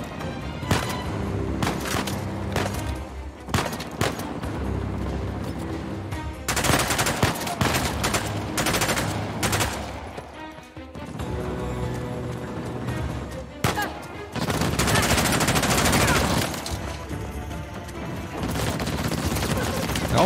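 Enemy gunfire in Uncharted: The Lost Legacy rattles in heavy bursts, loud automatic volleys and sharp shots with short lulls between, game music underneath and a voice speaking at times.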